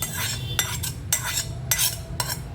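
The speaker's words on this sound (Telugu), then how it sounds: "మనము రోట్లో నూరుకుందాము." Gongura chutney is ground by hand in a stone mortar, with about five rhythmic scraping strokes sounding close and clear against a low background hum.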